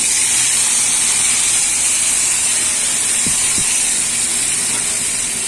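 Eggplant pieces for bhetki ghonto sizzle in hot oil with a loud, constant frying hiss; two soft knocks sound near the end.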